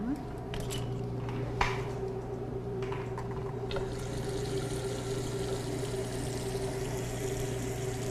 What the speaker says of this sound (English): Can you turn on the hot water for me?